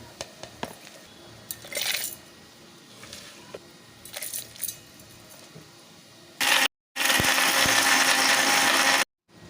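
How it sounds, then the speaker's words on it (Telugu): A mixer grinder whirs in a loud burst near the end, stopping briefly and restarting, grinding cooled nalleru (veldt grape) for pickle, after scattered clinks and handling noises. "మళ్ళీ మిక్సీ అయితే పట్టుకోవాల్సి ఉంటుంది"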